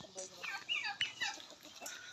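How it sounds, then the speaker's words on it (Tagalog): Several turkeys gobble and warble in quick, overlapping bursts, fairly faint and somewhat distant, with scattered clucks between calls. "May mga pabo din."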